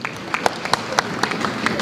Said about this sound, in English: May I get a clap for that